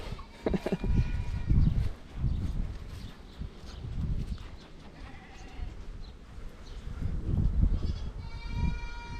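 Goats bleat on a farm, the calls near and intermittent over a busy barnyard background with a few scattered thuds; no talk is heard.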